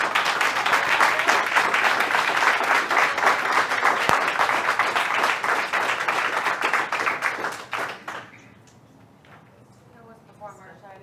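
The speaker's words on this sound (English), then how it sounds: "You're delaying the meeting by clapping." Audience clapping at a school board meeting, sustained applause filling the room for several seconds before fading out, followed by quieter room sounds.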